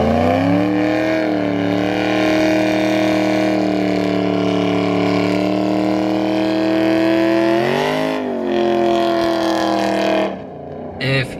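A truck engine roars at high revs during a burnout, loud and sustained with shifting tones, dipping and surging near the end before cutting off.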